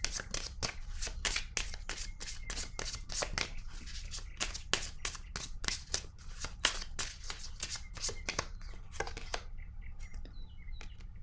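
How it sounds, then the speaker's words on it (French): Oracle cards are shuffled by hand in a rapid series of crisp riffling flicks, steady and close, continuing for several seconds before tapering off as the cards are drawn. "Je vais piger maintenant une carte de mon oracle de l'âme intuitive pour lui."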